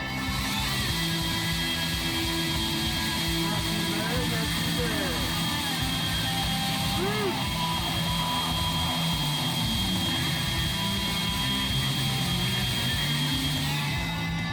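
A newly assembled Reeder 2x72 horizontal and vertical belt grinder runs for the first time, giving a constant, loud, droning motor whine that holds steady throughout.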